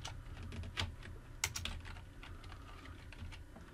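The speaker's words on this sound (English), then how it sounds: "I'm going to type in Powertoys" Keys clatter on a computer keyboard in a quick, uneven run of soft clicks, close and clear in a quiet room, while a search term is entered.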